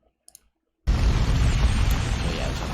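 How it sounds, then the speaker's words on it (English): A big explosion beneath Hyrule Castle in a Zelda game trailer, arriving abruptly after a few faint clicks and holding as a loud, sustained low rumbling roar to the end. "it's a big explosion underneath Hyrule Castle."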